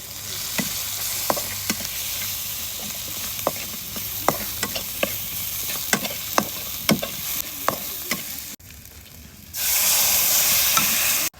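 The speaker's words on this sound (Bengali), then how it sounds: "তেলের মধ্যে দিয়ে কিছুক্ষণ ভেজে নিব মশলাটা" A spice paste of garlic, cumin, chili, coriander and turmeric fries in oil, with a constant sizzle and repeated spatula taps against the pan. A louder, brighter hiss bursts in near the end.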